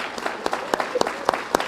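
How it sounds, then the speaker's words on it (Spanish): A church congregation claps scattered, individually audible hand claps in an irregular rhythm, fairly faint and without talk. "Les hacemos llegar a ustedes que se están conectando en este momento un aplauso de cariño."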